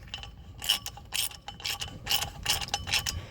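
Ratchet wrench snugging clutch bolts on a 2005 Saturn Ion, a quick series of faint metallic clicking bursts at an uneven rhythm, close by with no talk.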